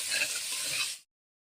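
Salted hilsa fish frying with ground green chilli paste in a village kitchen pan, a brief bright sizzle and stir lasting about a second before cutting to silence.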